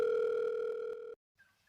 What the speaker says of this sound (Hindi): मैंने फोन लिया और रैना को फोन किया।